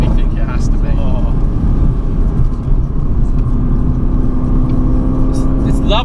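A Mercedes-AMG GT C Roadster's engine drones loudly and steadily from inside the open-top car as it is driven on the road, with people talking over the sustained engine note.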